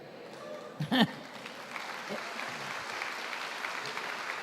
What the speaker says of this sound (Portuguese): Vocês estão aplaudindo